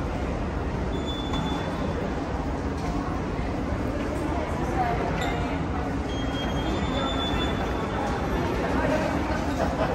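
Madrid metro train at a station platform, a steady loud rumble with faint wheel squeal and clatter throughout, with voices in the background.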